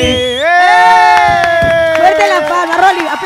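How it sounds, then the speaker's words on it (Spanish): Crowd cheering and shouting at a fourth-anniversary live show, loud, sustained voices with whoops near the start, then scattered clapping and chatter as the cheer fades. "Aplausos."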